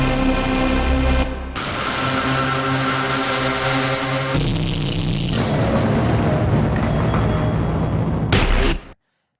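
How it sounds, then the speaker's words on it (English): Several huge, booming cinematic trailer impact hits, each a loud broadband slam with a long rumbling tail, separated by brief gaps and ending abruptly in silence. "These are like the big stuff you hear in trailers, just the enormous sounding hits."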